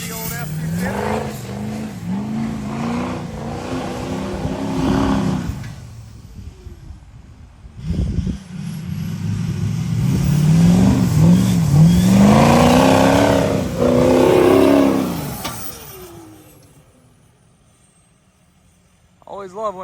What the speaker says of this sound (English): Always love when it makes that popping noise.